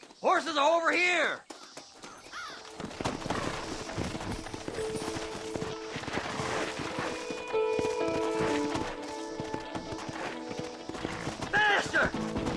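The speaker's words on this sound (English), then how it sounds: "Horses are over here." Horse hooves clip-clop steadily on the ground in a game scene while someone speaks at the start and end, with occasional whinnies and busy background ambience around the walking horses.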